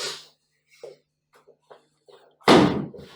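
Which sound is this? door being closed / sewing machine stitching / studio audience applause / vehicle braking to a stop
door being closed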